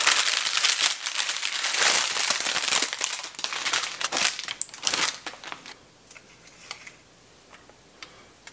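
Used, brittle parchment paper from bread baking is crumpled up close, a dense run of crackling crinkles for several seconds that then thins to a few scattered faint crackles.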